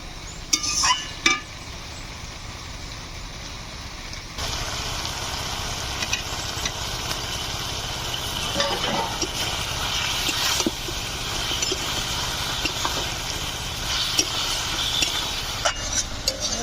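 Chicken skins dropped into a pan of cooked-down chicken and stirred, a loud steady sizzle with scraping stirs and a few knocks at the start, close up.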